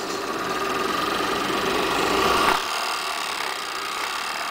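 Serger sewing machine stitching fabric, a fast steady mechanical whir and chatter running continuously up close, slightly louder midway before easing to a constant hum.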